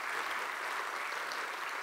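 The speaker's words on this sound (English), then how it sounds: "Round of applause for Josh." Audience applause at a keynote address, a steady dense wash of clapping from a crowd, moderately loud and unbroken for the whole stretch with no talk over it.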